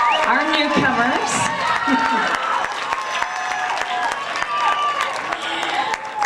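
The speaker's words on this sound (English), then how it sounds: "Give them a round of applause" Audience applause at a high school symphonic band spring concert, greeting freshman band students as they stand; steady clapping runs throughout with voices and tonal sounds over it.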